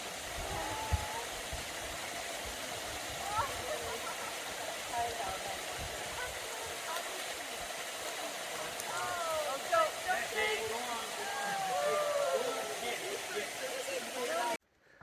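Steady rushing water from a waterfall fills the background, a broad constant roar with birds chirping faintly over it.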